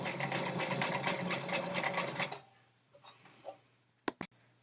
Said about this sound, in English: Ready to keep stitching.